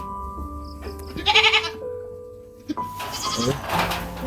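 Goats bleat on a small backyard goat farm, several distinct cries rising over a quiet rural background, one loud burst early and more wavering calls toward the end, close by and alone without talk.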